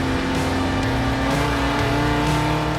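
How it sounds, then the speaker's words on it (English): A Volvo S40 banger rally car's exhaust blares loudly and continuously, its engine revving in a rough, rising and falling throb close by. "The exhaust sounds absolutely sweet as a nut, doesn't it?"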